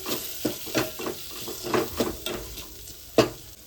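Turmeric and chili powder are stirred into a sizzling pot while cooking dal palak, a steady frying hiss broken by a series of scraping, clinking spoon strokes against the metal, close and fairly quiet.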